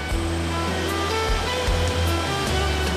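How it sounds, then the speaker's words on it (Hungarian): The Great Cold Valley waterfall in the High Tatras, seen from a recently renovated bridge, roars as a steady, loud, unbroken rush of falling water with a deep low rumble, and no voices over it. "elérjük talán az egész Kárpátok legismertebb zuhatagát, a Nagy Tarpataki vízesést"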